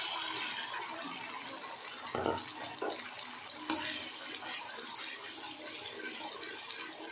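Water from a rinsed yogurt bowl pours into a soya bean curry, a faint, steady splashing trickle with a brief heavier gush partway through.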